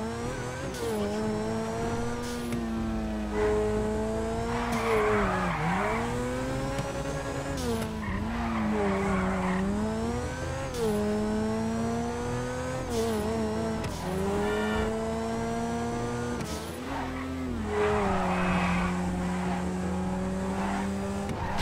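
A car in the video game GTA V drives with a steady, loud engine drone, its pitch rising and falling as it revs, while tires squeal in repeated skids throughout; no one speaks.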